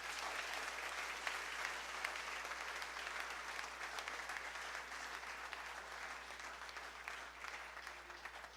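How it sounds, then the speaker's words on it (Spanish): A church congregation claps steadily in sustained applause during a sermon, an even wash of many hands with no voices standing out, holding at a fairly constant level throughout. "Dale un aplauso a Dios."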